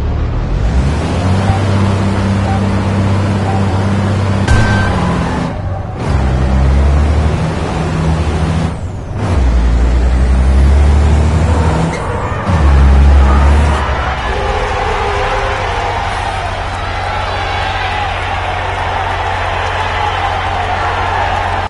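Steady heavy engine drone of a truck in the racing game Trucking Driver Racer, a continuous loud rumble with a couple of brief dips and gear-like shifts, accompanied by rushing road noise throughout.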